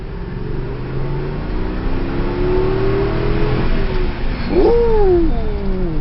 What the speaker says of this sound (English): I want to hear the engine outside